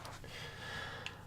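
A single throat clearing by a gamer between commentary, close and soft, a short rough burst followed by a faint breathy sound.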